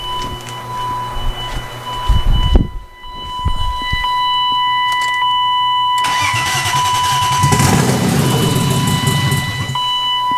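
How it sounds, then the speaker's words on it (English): A BMW E36 M3 engine, a swapped M50 with bent valves, cranks with a brief starter whir on brake cleaner, catches and roars up, then settles into a loud, steady idle. "let's at least fire it off with some brake clean."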